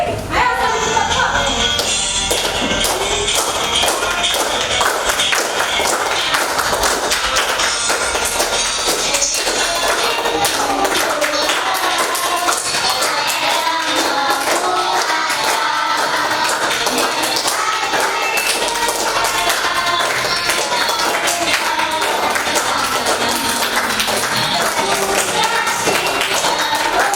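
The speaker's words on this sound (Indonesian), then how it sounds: "Ayo sambil tepuk-tepuk." Classroom of pupils standing and clapping their hands rhythmically, many quick overlapping claps at a steady loud level for a long stretch, with a busy mix of voices underneath.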